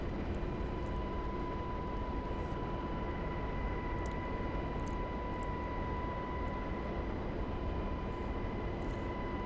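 A-10 jet aircraft in flight in a combat flight video game, a steady broadband engine roar with constant whine tones, unbroken and close throughout as the plane drops in altitude.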